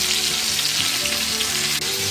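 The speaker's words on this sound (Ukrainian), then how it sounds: "зараз підсмажу м'ясо і будуть спагетті у нас" Steady, dense sizzling of meat frying in a hot pan, a continuous crackle with faint scraping of stirring, no voices.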